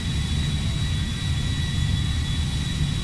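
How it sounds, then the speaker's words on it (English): Boeing 747-100 airliner in Lufthansa colors passing by in GTA V, a constant loud jet roar with deep rumble and a thin high whine, steady throughout with no voices. "a 747-100 in Lufthansa colors passes your way"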